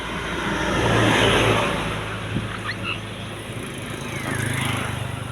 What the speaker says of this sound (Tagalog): Tingnan niyo yung mga tricycle dito, kakaiba din ang mga forma